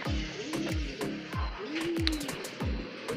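Repeated low, throaty racing pigeon coos rolling in a steady rhythm, close by, with a few faint chirps and rustles in the background.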